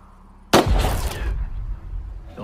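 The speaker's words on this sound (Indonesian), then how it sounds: "Bosman kemudian memerintahkan Pete menembak sebuah batu sebagai bagian dari uji coba." A single sharp gunshot fired at a rock in a film cracks out loud and close, followed by a long rumbling echo that slowly fades with no speech.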